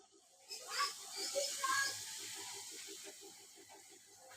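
Food sizzles steadily in hot oil, a continuous bright hiss that swells and then holds, with a voice talking over it.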